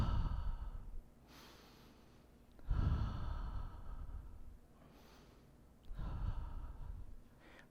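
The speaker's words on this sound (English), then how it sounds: "Breathe." Slow, deep breaths during a guided meditation in a church service, three long soft inhale-exhale cycles, close and quiet with no talking.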